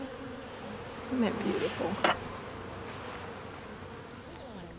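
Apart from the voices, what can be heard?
honeybees buzzing at a hive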